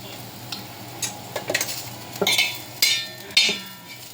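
Food frying with chilli powder and salt in a pan, with a low background sizzle and sharp clinks and scrapes from stirring that come in short bursts and grow louder toward the end.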